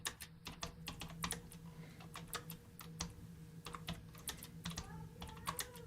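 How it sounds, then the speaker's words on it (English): Steady typing on a computer keyboard, clusters of crisp close key clicks in an irregular rhythm with brief pauses, no talking. "Oh, what are we typing?"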